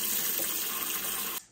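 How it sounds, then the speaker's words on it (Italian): Tap water runs steadily into a cooking pot at a kitchen sink, a loud continuous rushing splash that stops abruptly near the end. "Riempio una pentola d'acqua"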